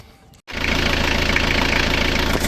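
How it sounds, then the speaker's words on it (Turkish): A car engine idles steadily after a Restore engine-repair oil additive was added, starting abruptly after a brief quiet moment and continuing as a loud, even rumble with a slight knocking vibration. "motorun sesi biraz azaldı yani. Daha az titreşim çalışıyor."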